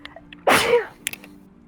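A single loud sneeze close by, sudden and short, with quiet before and after.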